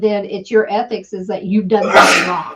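A single sharp sneeze bursts out at the end of a stretch of calm talk, loud and close.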